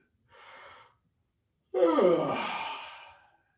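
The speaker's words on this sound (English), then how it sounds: "Yawn." A person yawns during a guided head-and-eye movement exercise: a short breathy inhale, a pause, then a longer voiced, drawn-out exhale that fades away, close and alone.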